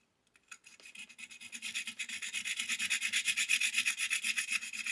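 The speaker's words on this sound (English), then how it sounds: "there's some big burrs down there I might have to grind down with a stone" A stone grinds down burrs on the frets of a DIY guitar neck, quick rhythmic back-and-forth rasping strokes that start soft and grow steadily louder, close up and alone.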